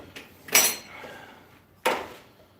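The corner of a file bites into a hardened steel knife blade in a smithing shop, two short, harsh rasping strokes a little over a second apart, quiet background between them.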